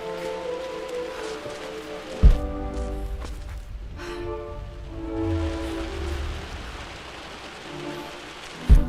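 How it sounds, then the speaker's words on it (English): Rain falling in the video game Rise of the Tomb Raider, a steady hiss of drops on surfaces with a low rumble beneath and a couple of sharp thuds, no speech. "the rain sounds so atmospheric"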